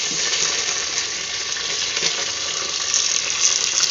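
Fennel, fenugreek, curry leaves, dried chili and garlic crackling in hot oil for a Sankara fish curry tempering, an even, dense, fairly loud sizzle throughout with no voices.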